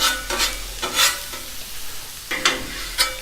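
Food cooking on a grill with a front and back lip, with scraping and stirring strokes at irregular intervals over a steady close sizzle.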